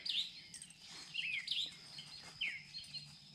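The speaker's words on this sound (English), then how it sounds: "listen to the birds." Birds chirp and whistle in short, bright calls at a state park campsite, several phrases spaced across a few seconds over a soft outdoor hush.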